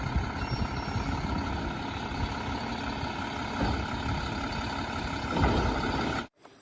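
A toy garbage truck sound effect plays steadily, an engine-like rumble with air-brake hiss and reversing beeps, then cuts off abruptly near the end.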